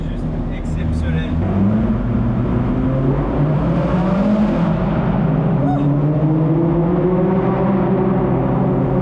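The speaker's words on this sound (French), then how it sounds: "c'est surtout le son de la Gallardo derrière, avec son échappement qui est juste exceptionnel" A Lamborghini Gallardo's exhaust rumbles behind while driving, a loud sustained engine note rising and falling as it revs, with people talking over it.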